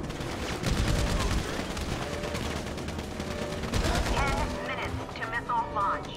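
Dense gunfire in GTA Online's Doomsday Heist finale: rapid overlapping automatic bursts and single shots crackle continuously, with a voice speaking among the shooting.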